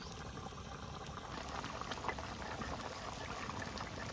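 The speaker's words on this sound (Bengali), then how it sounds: "টকের জলে সুন্দর জাল হয়ে গেছে" A pot of tangy Bengali fish-sour broth made with hog plum (amra) bubbles at a steady, continuous boil, a close, even hiss and gurgle with no talking.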